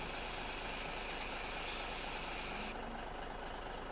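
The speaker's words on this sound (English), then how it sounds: "So yes, we got our Ford L9000." Ford L9000 truck engine idling in Farming Simulator 17, a steady low rumble with broadband hiss held evenly throughout, no talk over it.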